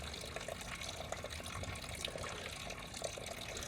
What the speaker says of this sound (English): We've got water flow into our sump basin right there.